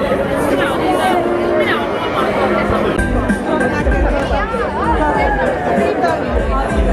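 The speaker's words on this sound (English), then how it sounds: "Big crowds for the beach volleyball." Crowd at a beach volleyball match, a dense steady babble of many voices chattering together, loud and continuous throughout with no single voice standing out.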